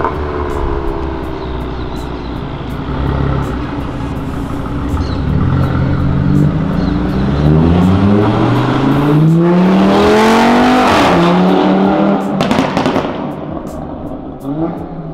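Subaru and Ferrari sports cars rev and downshift loudly on Avenida Europa, with rising and falling engine sweeps building as they pass close, then sharp crackling pops near the end.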